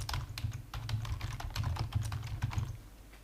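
Fast, close clicking of a computer keyboard as a channel group name is typed into music mixing software, with a steady run of crisp keystrokes and no talking.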